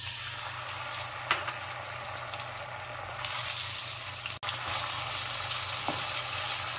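Masala paste made with a little water hits hot oil in a pan while cooking korma parwal, a steady frying sizzle with a louder burst partway through and no talk.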